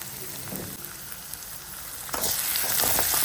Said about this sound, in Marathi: आता तेल गरम झालंय, तेलात टाकायचा आहे कांदा.